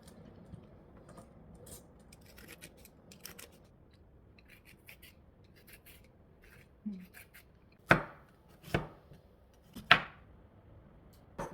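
A knife chops bitter gourd (karela) on a board, soft scraping and light cuts at first, then a few louder, sharper chops spaced about a second apart toward the end, with no talking.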